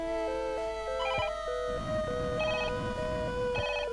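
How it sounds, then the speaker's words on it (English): A phone rings inside a custom Super Mario Maker course built as a haunted mansion phone room: a synthesized game ringtone with repeating bright electronic trills over a steady tone, continuous and clear. "Got a phone call when we walked through that doorway."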